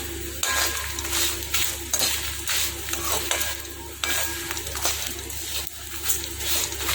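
Sesame seeds and cumin fry in a hot pan for a spicy sesame powder, giving a loud continuous crackle with repeated scraping and clinking as a spoon stirs them around.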